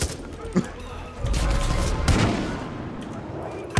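Gunshots go off in Far Cry 5, a few sharp cracks and bursts of fire over a rumbling, busy battle backdrop, close and loud.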